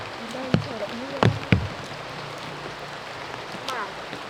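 Steady rain falls outdoors as a broad, even hiss under people talking, with a few louder close knocks or taps.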